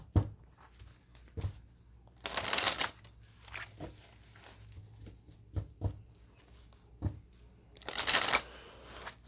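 A tarot deck is shuffled in two loud riffling bursts, with soft card taps and handling clicks between them, close up in a quiet room.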